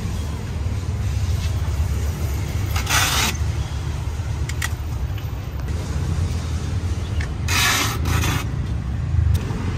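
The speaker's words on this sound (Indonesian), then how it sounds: "kita mau lakban dulu guys biar enggak gerak nanti" Packing tape is pulled off the roll and pressed down to secure a Honda car windshield glass for transport, with a few loud ripping screeches among softer rubbing and handling noises.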